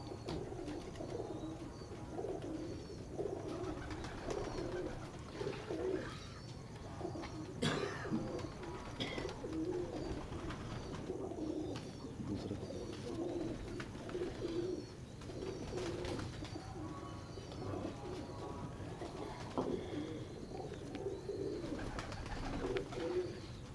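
Pigeons cooing repeatedly, soft rolling calls overlapping from nearby birds against a steady background hum.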